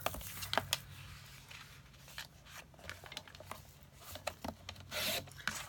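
White cardstock is trimmed for a handmade pull-tab card, with faint scraping and rubbing strokes and small ticks of paper handling coming at close range.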